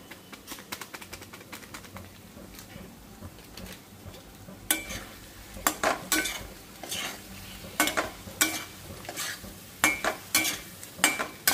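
Paneer with shahi paneer spice is stirred and fried in a pan. A steady sizzle runs throughout, and there are repeated scraping stirs and utensil clinks, louder and more frequent in the second half. Faint bird calls sound in the background.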